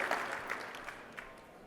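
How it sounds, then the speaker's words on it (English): Quiet, fading applause from an audience during a motivational talk, heard faintly and distantly for a short moment with no talking over it. "you can give that a round of applause"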